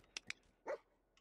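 Dogmeat, the dog companion in the Fallout 4 video game, gives a couple of quick yips and then a single louder bark, fairly quiet and close, with no talk over it.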